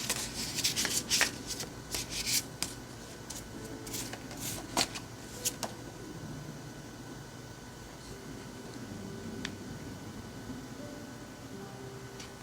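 Tarot cards are shuffled and handled up close in a quiet room. A flurry of crisp riffling and flicking sounds comes first, then softer scattered rubs and taps over a faint steady hum.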